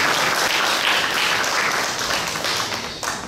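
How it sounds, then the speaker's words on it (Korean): Audience applause at a municipal awards competition in Korea, a steady dense wash of clapping that holds loud and even for a few seconds before easing slightly, with no voices over it. "다시 한번 큰 박수 부탁드립니다"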